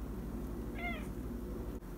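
A single short meow from a house cat at bedtime, close and clear over quiet room tone.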